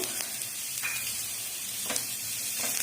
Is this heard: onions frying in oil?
yes